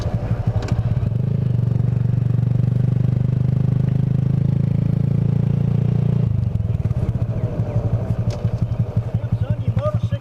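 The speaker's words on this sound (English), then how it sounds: "there's still some rattling on this bike" A small Honda Grom motorcycle engine, modified for stunts, runs steadily up close with a rough, rattling clatter, then the tone changes partway through.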